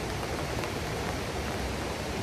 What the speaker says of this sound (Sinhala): වහිනවා guys.